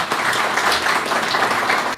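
An audience at a Turkish political candidacy announcement applauds with a dense, steady wash of clapping that holds for about two seconds, with no talk over it.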